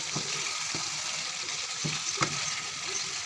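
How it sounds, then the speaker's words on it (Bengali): Native chicken meat sizzles and fries steadily in a hot pan, with a few soft scraping stirs at intervals and no voices. "মাংসটি ভালো করে কষিয়ে নিতে হবে দেশি মুরগি"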